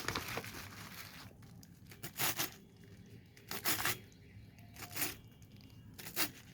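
Taro leaves being chopped finely on a clean rice sack for a shrimp bharta, giving a few sharp, crisp tearing and crunching cuts spaced apart over a quiet background.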